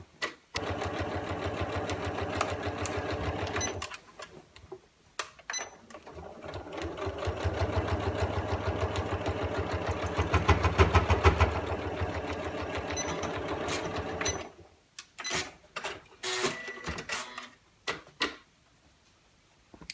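A sewing machine stitches a fabric storage caddy through bulky seams in long close runs of rapid needle chatter, pausing between passes with clicks and handling noise.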